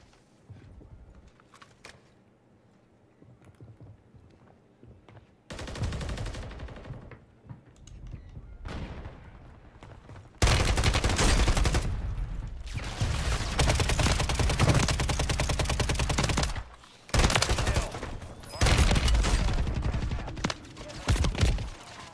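Bursts of video game gunfire crackle in loud, dense volleys through the second half, after quieter stretches of softer sounds, with brief gaps between the barrages.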